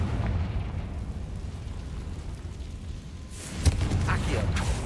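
Confringo explosive spell in Hogwarts Legacy, a low rumbling background followed by a sharp burst and booming crackle in the second half, with a player's voice faintly beneath.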